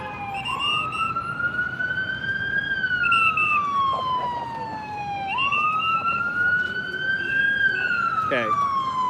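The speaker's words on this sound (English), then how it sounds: "As we have our ambulance, our prerequisite ambulance." An ambulance siren wails through a crowded Central Park at Christmas, its tone sweeping up and down in long loud cycles over a constant murmur of crowd noise.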